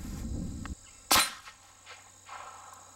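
M1 Carbine firing an 85 grain Lehigh Defense Extreme Cavitator round, a single sharp, loud shot after a brief rumble, followed by faint scattered clinks and a quiet tail.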